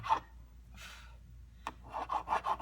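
Sandpaper rubbing between the frets of a Stew Mac Mini T kit guitar neck, a few short dry scrapes followed by quicker rhythmic strokes, close and fairly quiet.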